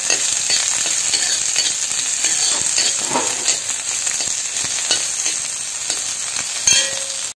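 Chopped onions fry and sizzle steadily in a pan of hot oil while being stirred for a Kerala ginger pachadi, a continuous close crackle with scraping stir strokes and a brief clink near the end.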